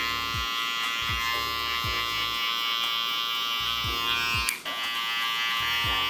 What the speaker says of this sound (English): I'm actively flicking the clipper off the head a bit because I want this to blend well